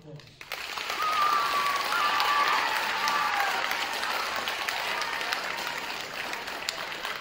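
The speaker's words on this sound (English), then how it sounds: "Let's give them a round of applause." An auditorium audience breaks into sustained applause for school sports coaches being introduced. The clapping swells quickly after a brief quiet moment and stays dense and even until the end.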